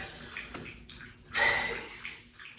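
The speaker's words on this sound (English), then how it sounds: "That was my dog drinking" A dog laps up water in a few soft, wet bursts of splashing and slurping, close by, with a louder surge of lapping in the middle.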